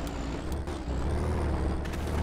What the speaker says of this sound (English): That BTR is coming.